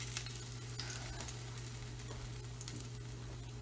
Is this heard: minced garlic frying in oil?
yes